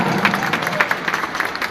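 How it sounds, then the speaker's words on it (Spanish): A short burst of audience clapping, moderately loud with distinct individual claps, rises in a cathedral during a Christmas carol contest for polyphonic choirs. "Grandes fuertes aplausos a Coca."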